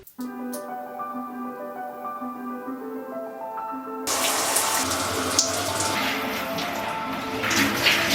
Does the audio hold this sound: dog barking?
no